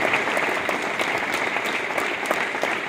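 Audience applauding at a 14 April Dr B.R. Ambedkar commemoration speech, with a thick, continuous burst of many hands clapping throughout, loud and close.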